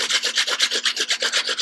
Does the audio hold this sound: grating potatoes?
yes